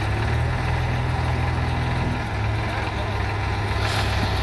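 A loaded tractor at a JCB loading site sits idling, a continuous low, heavy engine rumble that stays close and loud throughout, with a slight shift in tone partway.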